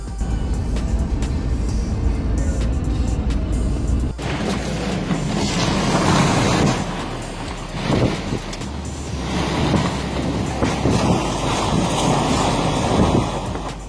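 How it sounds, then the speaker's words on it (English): Fierce wind roars across a coastal village while a raging sea crashes and churns, a loud, steady, dense wash with gusts rising and falling and no voices. "Coastal village is battered by fierce winds as the sea rages in unison."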